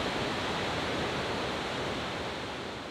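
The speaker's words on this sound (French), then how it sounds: "Krka forme 7 chutes magnifiques." Waterfalls on the Krka river in Croatia pour in a dense, steady roar that stays broad and even throughout, with no voices over the rushing water.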